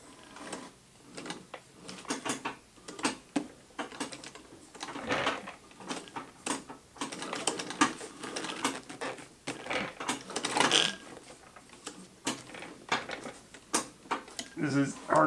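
A treadle sewing machine runs in uneven bursts of rapid mechanical clatter and ticking, stopping and restarting as the treadle is worked, fairly faint and close with occasional knocks.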